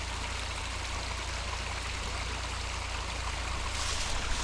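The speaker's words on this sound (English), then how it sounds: "Creek is actually pretty deep right now." Flowing creek running fairly deep near an off-grid cabin, a soft steady wash of moving water, continuous and moderately faint, with no voices.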